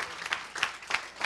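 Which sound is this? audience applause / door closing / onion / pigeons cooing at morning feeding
audience applause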